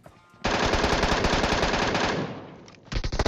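Rapid automatic fire from an MK14 rifle in PUBG Mobile: a loud, dense burst runs for about two and a half seconds, breaks off briefly, then resumes with several more distinct shots at the end.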